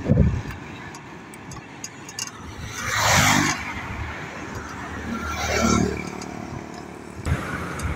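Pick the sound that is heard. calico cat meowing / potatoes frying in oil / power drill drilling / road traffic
road traffic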